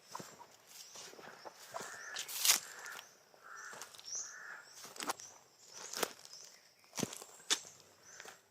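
A crow caws repeatedly in a video game, several harsh calls spread across the stretch, mixed with crunchy footstep sounds against a quiet background.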